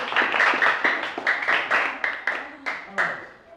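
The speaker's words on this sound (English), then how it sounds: "let's clap for our judge" Schoolchildren in a classroom debate competition clap for their judge, a group applause with distinct, fairly regular bursts, close and loud, while a voice talks in the background.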